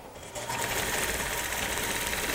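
A sewing machine runs steadily, stitching a quilting line along a ruler, with a fast, even whirring hum that begins just after a brief quieter moment and continues close and constant.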